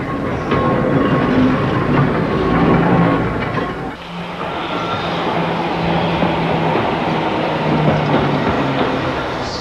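A Snaefell Electric Railway mountain train on the Isle of Man rumbles along the track with a steady hum and faint rhythmic clatter, loud and close throughout.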